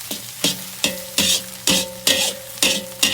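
Egg fries in a pan for Indonesian mie goreng, rhythmic bursts of sizzling and scraping from quick stirring strokes, about seven evenly spaced pulses, loud and close without voices.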